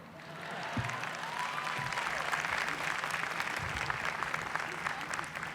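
Steady applause from a crowd at a university commencement ceremony, a sustained wash of clapping at moderate distance that holds evenly throughout.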